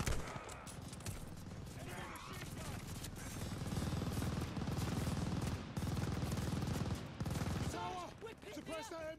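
Sustained machine gun fire in the World War II shooter Call of Duty Vanguard, dense overlapping bursts with battle noise, shouted voices mixed in, and a pause near the end.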